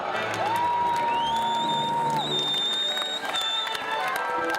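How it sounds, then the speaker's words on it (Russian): A festival audience at Moscow Navruz applauds the Dagestan delegation, with loud, continuous crowd clapping and cheering beneath festive music and whistle-like tones. "Приветствуем аплодисментами делегацию Республики Дагестан!"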